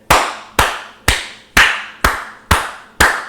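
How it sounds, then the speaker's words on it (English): A person claps their hands alone, seven sharp, evenly spaced claps about half a second apart, close and loud with no talk. "why the fuck does this guy always clap?"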